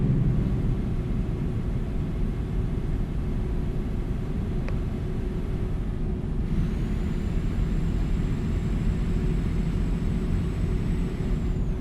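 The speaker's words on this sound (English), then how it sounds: "Love the sound them trucks make as I pass you." Trucks rumble past in American Truck Simulator, a steady, loud engine and road drone that runs unbroken through the clip, with a brief swell partway through as another rig passes.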